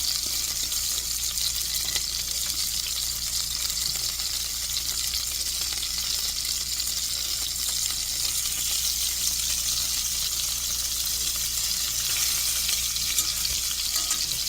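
Lamb chops searing in hot oil in a pan, a loud, continuous sizzle and crackle that holds steady close up with no talking.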